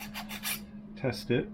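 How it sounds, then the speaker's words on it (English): A metal file rasps in a few quick, short strokes, deburring a hole cut into the trunk of a 1956 Oldsmobile. The filing is close and fairly quiet, and a voice speaks briefly. "Cleaned up the hole in the car with the file."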